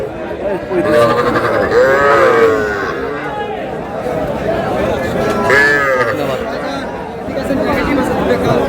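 Calves bleat and low now and then amid steady crowd chatter and voices at a busy outdoor cattle market in Raniganj.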